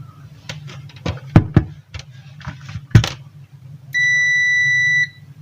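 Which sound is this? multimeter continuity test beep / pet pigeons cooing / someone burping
multimeter continuity test beep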